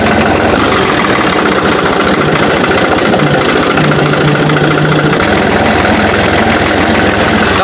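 A tractor engine runs steadily at close range, a continuous loud low-to-mid rumble with rhythmic knocking pulses and no pauses throughout.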